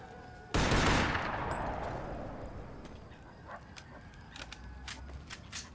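In the video game Combat Task Force 121, a loud burst of warning gunfire cracks out at once and decays into a rumbling echo, followed by quieter scattered clicks and distant sounds.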